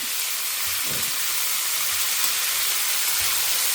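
Cluster beans tossed into a hot tempering of popping mustard seeds and urad dal, a loud, steady hissing sizzle that continues evenly throughout, with a few faint low knocks underneath.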